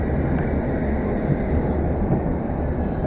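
A London Underground Metropolitan line train, led by unit 1324, rolls steadily past at Pinner station, a loud continuous rumble of wheels and carriages with faint squeal, no talking.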